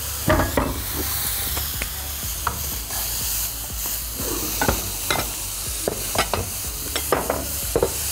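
Chicken sizzling and frying in a pan with a steady hiss, broken by scattered clinks and scrapes of stirring utensils.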